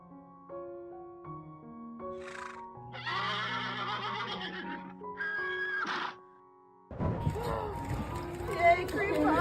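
Horses neigh and whinny in a few drawn-out calls as they are released into the wild, over music and splashing, ending with louder noisy commotion and voices.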